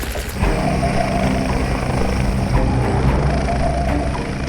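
A helicopter used for timber logging roars loudly and steadily nearby, its heavy rotor thrum and engine noise filling the whole stretch.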